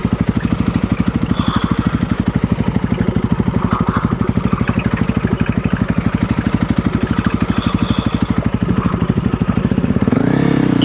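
A Honda CRF300L or KTM 390 Enduro R dual-sport motorcycle rides a trail, its engine thumping in a loud, steady pulse for about ten seconds before a brief rev near the end.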